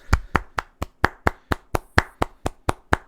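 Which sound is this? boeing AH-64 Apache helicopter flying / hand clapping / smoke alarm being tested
hand clapping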